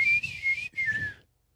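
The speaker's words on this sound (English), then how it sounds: "I'm whistling like playing a sax" A person whistles a short improvised melody in the style of saxophone lines, two clear bright phrases with a brief gap between them, close and alone.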